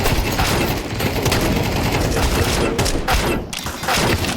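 Dense, continuous gunfire in Counter-Strike 2 rattles without pause as rapid overlapping shots, loud and close, with only a brief dip near the end.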